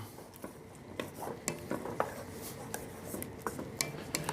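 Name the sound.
stirring tomatoes and garlic in a pan for arrabiata sauce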